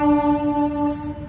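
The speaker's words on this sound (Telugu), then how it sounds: "ట్రైన్ పోతుంది వెనక." A train passing behind a spot at the Nepal border, heard as a loud, sustained horn-like tonal blast that slowly fades, with no talking.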